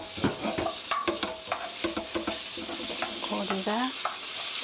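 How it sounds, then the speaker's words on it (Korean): Sliced meat stir-frying in grapeseed oil for japchae sizzles steadily in a pan, with repeated scraping and clacking strokes of a utensil stirring it, close and fairly quiet. "고기가 하얗게 될 때까지 볶아주세요."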